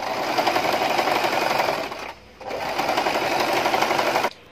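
A sewing machine stitches palazzo pants in two long, loud, steady runs close by, broken by a short pause and ending abruptly, with no voices.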